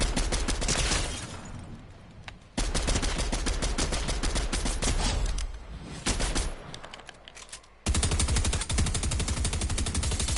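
Rapid bursts of heavy-recoil gunfire, loud and close, broken by short pauses before each new volley.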